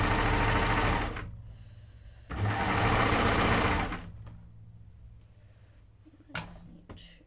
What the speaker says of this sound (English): So this is how quickly cover stitches work.